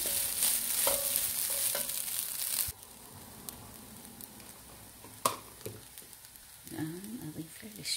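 Rice frying with onion and garlic in oil crackles loudly for a few seconds, then drops to a quieter hiss broken by stirring scrapes and a sharp knock.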